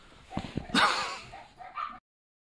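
Dogs give a few short yips and whimpery barks, close and moderately loud, in a brief burst that ends suddenly in silence.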